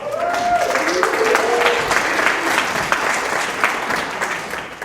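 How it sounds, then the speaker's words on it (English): Applause from an audience at an Independence Party of Alberta speaking event in Redcliff, steady dense clapping filling the room for the whole stretch, with a few voices faintly audible underneath. "Let's give yourselves a round of applause."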